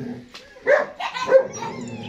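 Black German Shepherd puppies give a couple of short, close barks and yips, with brief whimpering between them in a quiet room, a voice speaking nearby.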